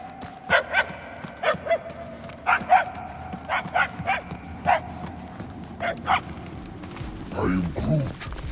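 A dog barks in the video game Marvel's Guardians of the Galaxy: roughly a dozen sharp, evenly spaced barks sound close and clear, and a voice briefly joins near the end.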